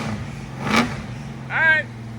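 Dodge Dart engine idling low and steady, with a short swell as the gas is tapped and a brief higher whine or voice sound near the end.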